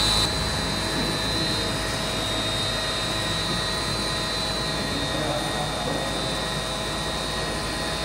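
An electric motor driven by an ABB ACS355 variable frequency drive, running at about 90% speed, gives a steady, loud, continuous whine-like hum with a persistent high tone, unbroken and alone.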